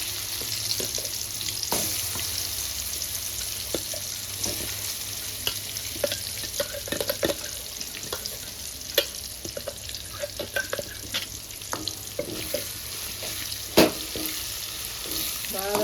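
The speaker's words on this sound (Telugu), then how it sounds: "తాలింపు ఫ్రై అయిందండి ఉల్లిగడ్డ పచ్చడి వేసుకుంటుండ" Oil sizzles and fries steadily in a pan as a tempering for onion chutney, with occasional sharp crackles and the scrape of stirring.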